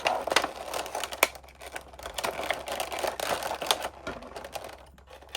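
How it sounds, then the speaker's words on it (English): Tape being peeled off a paper envelope up close, a run of crackling, tearing and crinkling noises in uneven bursts with no talk. "trying to get this tape off"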